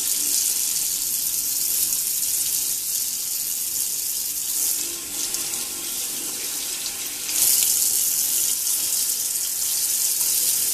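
Steady broadband rush of tap water running into a sink while a white makeup blending brush is wet and washed with soap, continuous and close with a brief surge near the end.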